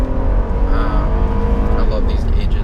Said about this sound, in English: But the engine sounds nice.